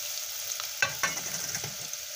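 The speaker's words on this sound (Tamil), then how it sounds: "நறுக்கி வைத்திய பரங்கிக்காயை சேர்த்து நல்லா கிண்டுங்க." Chopped pumpkin sizzles steadily in hot oil while a utensil stirs it, with a couple of sharp scrapes against the pan.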